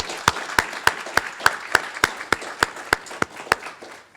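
At an award ceremony for scholarship recipients, sharp claps ring out in an evenly spaced, steady rhythm, sounding clear and close with little else behind them.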